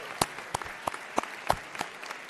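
A convocation audience applauds a group of honors graduates. The clapping is light and scattered, a handful of distinct, sharp claps spaced irregularly, with a soft wash of crowd noise between them.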